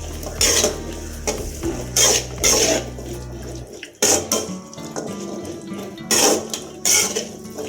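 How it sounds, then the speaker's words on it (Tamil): Boiled white chickpeas with garam masala powder are stirred in a pan, a spoon scraping and clinking against the metal in repeated bursts over a wet, bubbling background. "வெள்ளை சுண்டலும் இந்த கரம் மசாலா பொடி எல்லாமே நல்லா சேர்ந்து வர முடிய கொஞ்சம் நேரம் கிளறி விடுங்க"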